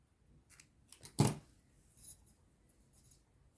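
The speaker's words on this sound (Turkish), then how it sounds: "İlmek kaydırmayla bir zincir çekip ipimi keseceğim." Scissors snip once through crochet yarn during a Turkish amigurumi shoe and bandana project. The cut is a single sharp close snip amid a few faint handling clicks, with no talking.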